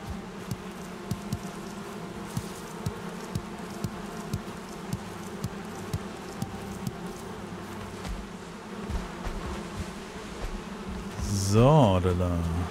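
Bees buzzing in the video game Valheim: a steady insect drone continues throughout, with soft regular ticks under it and a brief voice rising near the end.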